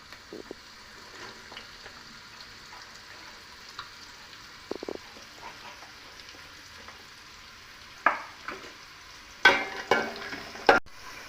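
Carrot and other vegetables fry in hot oil with a quiet, steady sizzle, broken later by a few louder bursts of spattering and clatter near the end.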